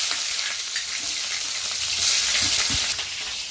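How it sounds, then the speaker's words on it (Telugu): Green chillies and sliced onions crackle and sizzle in hot oil in a pan, a steady close hiss with a few soft pops and stirring scrapes, no voices. "నూనె అయితే బాగా వేడింది కదండి పచ్చిమిర్చి ఉల్లిపాయలు వేసుకున్నాను"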